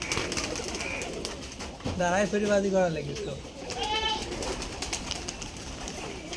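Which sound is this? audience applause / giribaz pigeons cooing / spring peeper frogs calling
giribaz pigeons cooing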